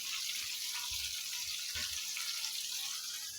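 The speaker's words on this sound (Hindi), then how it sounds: "अब मैं इसमें शामिल कर रही हूँ 1 कप पानी" A cup of water is poured into masala cooking in a pan, a steady hiss and sizzle of liquid hitting the hot spices throughout, with no talking.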